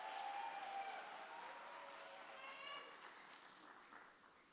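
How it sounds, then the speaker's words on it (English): An audience applauds at a university professorial inaugural lecture, a faint, distant wash of clapping that fades out toward the end. "Let us clap hands for the congratulations for Professor Sone"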